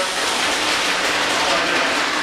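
A music ensemble imitates rain pouring harder, a dense, loud, even wash of hissing noise like a heavy downpour, sustained without break.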